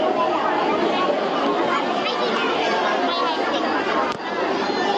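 A large crowd chatters at a Ganpati temple, a dense, continuous babble of many overlapping voices close by, with one sharp knock near the end.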